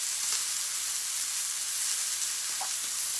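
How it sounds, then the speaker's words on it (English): Olive oil and marinade for carne asada sizzling in a hot pan, a loud, steady close hiss of frying with no talk. "Can you hear that sizzle?"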